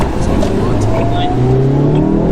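A Suzuki Swift speeds up with its wheels spinning, the engine note rising over a couple of seconds as the tyres lose grip, heard from inside the car along with a voice.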